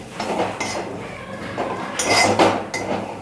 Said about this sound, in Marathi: मोठ्या गॅसवरच भाजायची सुकट कढई गरम झाल्यावर सुकट टाकलेली आपण आता ती भाजतोय